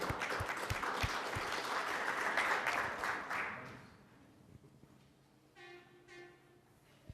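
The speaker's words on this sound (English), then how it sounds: "give him a nice round of applause there, right there in the back" Audience applause at a community Safe Streets meeting, a burst of many hands clapping that fades out after a few seconds, followed by quieter room sound and a brief tonal passage.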